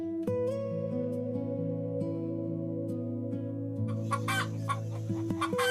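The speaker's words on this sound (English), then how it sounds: "Chicken." A chicken clucks repeatedly and close by, its calls standing out clearly with no speech, joined near the end by a brief burst of rustling or flapping.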